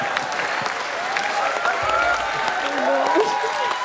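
Studio audience applause on a comedy show, dense sustained clapping from a crowd, with voices and laughter mixed in and a low thump partway through.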